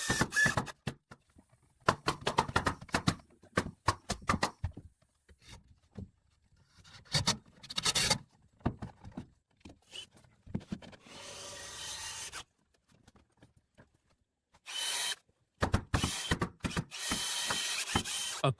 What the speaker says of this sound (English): drilling through a long platform beam